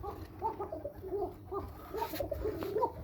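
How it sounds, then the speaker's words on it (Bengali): Pigeons on a small farm with growing young birds coo in repeated soft, throaty calls, several overlapping close by, against faint rustling and no speech. "আর এখানে ডাকাডাকি করা চলতেছে কবুতরে।"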